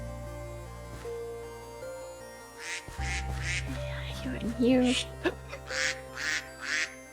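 A duck quacking in Minecraft, heard as a series of short, nasal quacks in quick succession over background game music, with a person talking at times.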